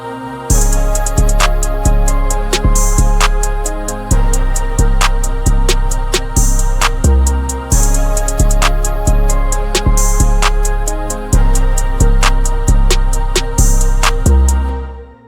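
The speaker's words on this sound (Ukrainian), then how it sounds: "Ось так звучить наша драмка разом з інструментами." A steady drum beat drives along with kick, snare and rapid hi-hat ticks, layered under sustained instrumental tones, loud and up close.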